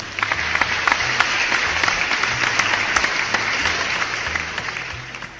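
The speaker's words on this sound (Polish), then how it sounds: "Wielkie brawa!" Sustained, dense applause from a gathered crowd at a fundraiser supporting Kazik's chicken coop, steady and fairly loud for the whole stretch with scattered sharper claps and a low hum beneath.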